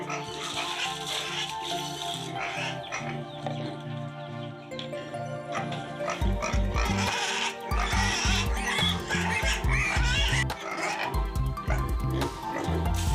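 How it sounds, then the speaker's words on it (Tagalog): Fattening pigs at a pig farm grunt, squeal and oink in a busy chorus, with steady low grunting from many animals growing louder midway through, close and continuous. "Dito naman tayo sa mga patabaing baboy para tumahimik na silang lahat."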